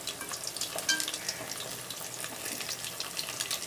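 Fish fries in a pan with a steady, close crackling sizzle and occasional sharper pops, and no voices over it.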